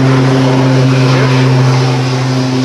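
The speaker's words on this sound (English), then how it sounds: "there's crop dusters in the area today. And one's going over right now." A crop duster airplane passes low overhead above rural fields, a continuous loud propeller drone with a steady engine hum throughout, no voices.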